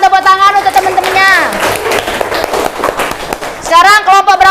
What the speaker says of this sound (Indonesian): Kita berikan tepuk tangan untuk teman-temannya.